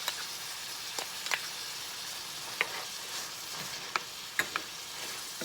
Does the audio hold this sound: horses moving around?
no